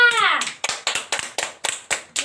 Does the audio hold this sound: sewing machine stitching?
no